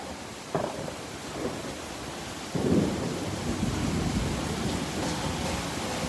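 Heavy rain pours steadily during a Houston thunderstorm, with a crack of thunder early and a louder, longer rumble in the middle, all heard close from a porch.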